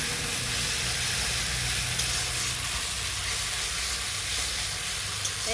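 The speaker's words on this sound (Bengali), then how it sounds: "এবার এই টমেটোটা দিয়ে ভালো করে কষিয়ে নিতে হবে যত সময় না রস শুকিয়ে তেল বেরিয়ে আসে" Spice paste and tomato paste fry in hot oil, a loud, dense, unbroken sizzle and hiss filling the whole stretch, close up with faint stirring underneath and no speech.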